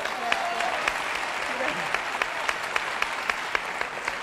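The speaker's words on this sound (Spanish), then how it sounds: "Araceli Vita, un gran aplauso para ella." A television studio audience applauds an actress on a variety show, dense clapping with a few sharp individual claps standing out, and a voice briefly heard over it.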